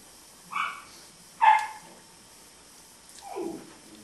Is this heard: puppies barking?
yes